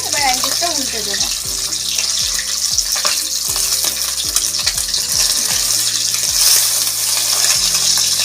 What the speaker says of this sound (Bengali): মাছগুলো কিন্তু খুব কড়া করে ভাজার দরকার নেই, এই রেসিপিতে হালকা করে ভাজলেই হবে।